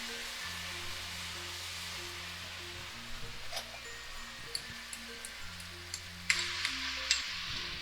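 Ginger and garlic fry and are stirred in a pot for a Ghanaian spinach and lamb stew, a faint steady sizzle with scattered scraping clicks of the spoon and no talking.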